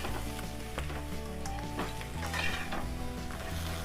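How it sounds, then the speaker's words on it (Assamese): Chicken and jackfruit fry on low-medium heat in a pan with a steady sizzle, with occasional scrapes and stirring clinks and a faint musical tone running underneath. "লো মিডিয়াম জুইত ৰাখি এইখিনি ভাজিব"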